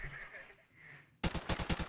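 Gunfire from the video game Rust, heard as a sudden burst of rapid shots striking a player, loud and close after a second of quiet ambient sound.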